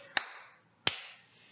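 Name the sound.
hands clapping twice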